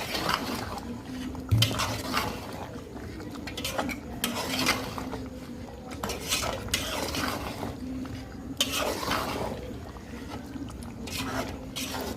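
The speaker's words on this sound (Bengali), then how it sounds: "এখন একটু নেড়ে চেড়ে দিব নাহলে নিচে থেকে লেগে যাওয়ার সম্ভাবনা আছে" Beef curry with potatoes stirred in a cooking pot, with repeated scraping and clinking strokes of a spoon against the metal in an uneven rhythm over a low background hum.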